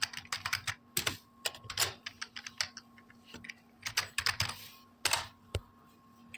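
Typing on a computer keyboard, a steady run of close, crisp key clicks in uneven bursts with no talk.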